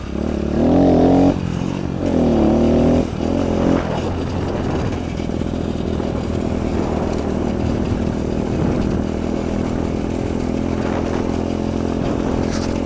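Kawasaki KLX 110 small dirt bike engine running steadily while riding, a loud buzzing drone with a couple of brief revs near the start before settling into an even hum.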